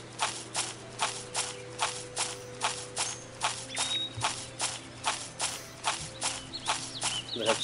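Horse hooves clip-clop at a steady, even walking rhythm in the Joan of Arc video game, about two steps per second, moderately close, with a faint hum behind them.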